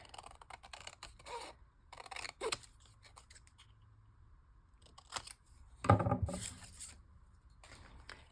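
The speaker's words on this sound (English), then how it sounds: "I probably should use the small scissors for this one" Small scissors snipping paper while assembling a craft junk journal: several short, close, crisp cutting bursts spaced across a quiet tabletop setting, with the busiest cluster near the end.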